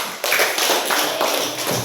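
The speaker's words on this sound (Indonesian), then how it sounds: "Beri tepuk tangan." A primary school class applauds together, a dense, steady patter of many hands clapping close by for a couple of seconds with no talk.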